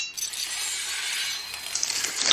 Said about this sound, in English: Wolverine's claws generally sound like this.